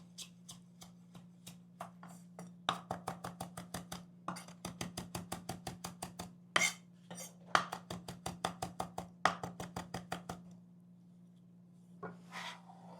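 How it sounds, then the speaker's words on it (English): Steady rhythmic knife chops on a cutting board as parsley is cut up, dozens of quick close taps in bursts with brief pauses, over a constant low hum and no talking. "All right, so I'm gonna chop up that parsley."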